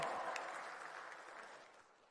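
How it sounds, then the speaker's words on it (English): Applause fills the hall at the closing ceremony of the Indonesia International Open 2024 billiards tournament, a dense wash of clapping that slowly fades over about two seconds. "please give applause for Indonesia International Open"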